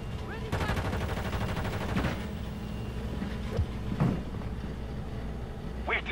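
Rapid gunfire bursts from a Call of Duty multiplayer match crackle continuously, with sharper individual shots standing out near the middle and end, mixed with game announcer chatter and background battle noise.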